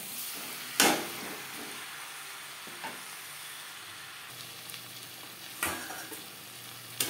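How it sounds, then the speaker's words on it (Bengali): Shankar fish pieces are stirred with onion and tomato in a hot frying pan over high-to-medium flame: a constant sizzle broken by a few sharp spatula scrapes, loudest near the start and again later. "পেঁয়াজের সাথে মাছ বেশ ভালো করে মিক্স করে দেব।"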